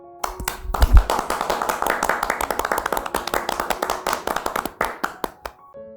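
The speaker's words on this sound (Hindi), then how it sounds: "ये देखकर सब बच्चे तालियां बजाते हैं।" A group of children clap together on a stage, a quick, fairly even run of crisp hand claps lasting several seconds before stopping.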